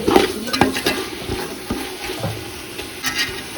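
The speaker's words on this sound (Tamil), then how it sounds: "இப்போ சிக்கன் நல்லா குக் ஆகட்டும்." Chicken pieces fry in a pan and are stirred with a utensil, giving soft sizzling under clinks and scrapes that come at uneven intervals.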